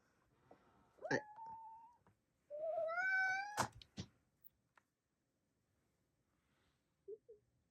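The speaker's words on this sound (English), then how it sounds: "As soon as I start talking, Vicky starts in the background meowing" A cat meows a few times, a short call then a longer rising, drawn-out meow, followed by a few clicks and a faint chirp, fairly close.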